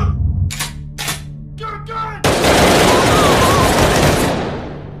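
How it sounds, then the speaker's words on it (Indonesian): A loud, amplified shotgun blast from a film bursts in after a few short sharp sounds, then leaves a long roaring decay that slowly fades. "memperlihatkan suara atau sound effect suara tembakan shotgun dengan volume yang dinaikkan"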